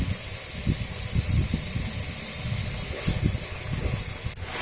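Oil poured over frying spices in a pan for a paneer and potato curry sets off a sustained hiss with low bubbling crackles underneath. The sound stays fairly loud and even throughout, with no voices heard.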